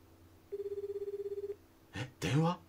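A telephone in the game WHITE ALBUM2 gives a single warbling electronic ring lasting about a second, clear and close, followed by a brief voice.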